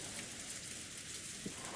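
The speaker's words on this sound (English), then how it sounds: "All that could be heard was the sound of the rain, which had kept falling since last night, and the howl of the wind" Steady rainfall in a visual novel game, a soft continuous patter heard faintly and evenly throughout, with no voices.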